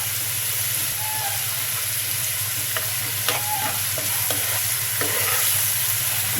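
Ginger garlic paste frying in a pan while cooking rui fish curry with bay leaf, a steady loud sizzle and hiss with a few soft scrapes of stirring, no voice over it.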